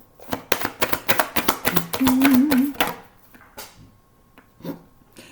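Tarot cards being shuffled by hand, a rapid run of crisp riffling flicks over about three seconds, then quieter scattered card taps and slides, close up with no talking.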